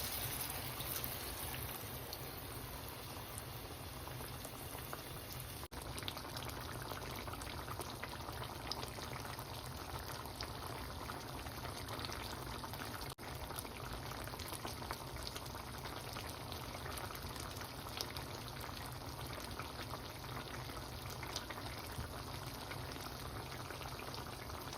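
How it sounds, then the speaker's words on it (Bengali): Curry simmering in a pan after a little water is added, a steady faint bubbling and sizzling hiss that carries on evenly throughout with no voices. "এখন আমি সামান্য পরিমাণটা পানি দিয়ে দেবো, বেশি একটা পানি দিব না, কারণ শুকনো শুকনো রাখবো।"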